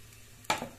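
Hot oil in a pressure cooker, heating for a cauliflower sabzi tempering, gives a single short, close sizzling hiss after a moment of quiet.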